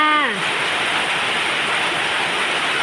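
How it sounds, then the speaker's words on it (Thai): Out-of-season rain falling in Prachaksinlapakhom district, a steady, dense hiss of drops that continues evenly after a brief voice sound at the start. "ฝนตกค่ะ อำเภอประจักษ์ฝนตกนะคะ เย็นสบายเลยค่ะ"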